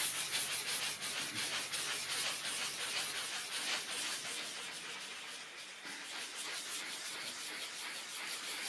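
Steady hand sanding of wooden furniture with finer-grit paper, roughly 200 grit, gives a continuous close scratchy rubbing that holds even and unbroken from start to finish, with no talk over it.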